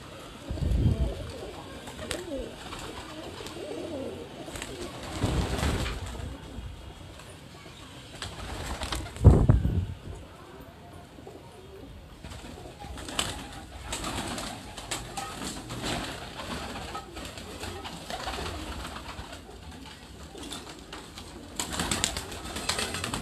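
High-flying pigeons coo on a rooftop in Larkana, Sindh, with a steady outdoor murmur and occasional louder bird calls and rustles over more than twenty seconds.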